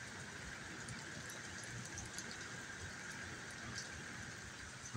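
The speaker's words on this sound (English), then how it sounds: "Can y'all tell it's raining out there?" Steady rain falls outside as a constant soft hiss, fairly faint and unbroken, with no voices.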